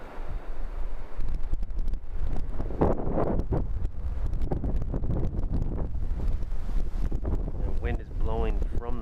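Wind gusting across the microphone outdoors on a hike in Franz Jevne State Park, Minnesota, a loud continuous low rumble with buffeting throughout, and a voice briefly speaking near the end.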